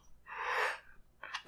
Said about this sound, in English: Just gotta sneeze.